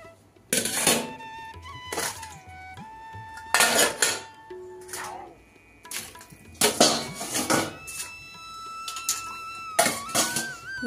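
Freshly washed metal dishes, pots and cutlery are set down and stacked away in a home kitchen, with repeated clanks and clatters in irregular bursts, close and fairly loud, with no talking.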